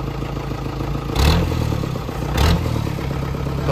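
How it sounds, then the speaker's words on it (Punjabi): An old-style DI diesel engine in a Mahindra open jeep idles with a steady clatter, then rises in two short revs, each swelling briefly before settling back to idle. "ਜੋ ਕਿ ਥੋੜ੍ਹੀ ਜਿਹੀ DI ਇੰਜਨ ਹੈ ਤਾਂ ਪਹਿਲੋਂ ਵਾਲੇ ਇੰਜਨ ਦਾ ਸਾਊਂਡ ਹੈ।"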